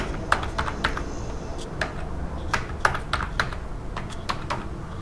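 Quick, irregular key clicks from a computer keyboard as a password is typed on a login screen, with close, crisp taps in short bursts and small pauses, alone with no talking.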